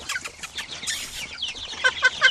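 Chickens cluck and squawk in close, busy bursts as the birds are let out of their coop on a farm, several overlapping calls growing louder toward the end.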